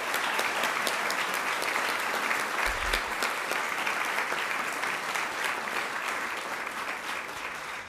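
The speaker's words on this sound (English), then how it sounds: "Please join me in a round of applause for the Letney family." A crowd at a city volunteer recognition ceremony in Salem gives a sustained round of applause, dense steady clapping that tapers slightly toward the end.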